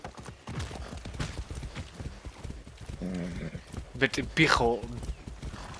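Horse hooves clip-clop in a steady rhythm while riding in Far Cry 6, with a horse neighing partway through and someone talking over the gallop.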